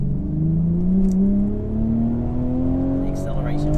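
A 2019 BMW Z4 engine accelerating, its note rising smoothly and steadily from inside the car, with someone talking over the continuous drone.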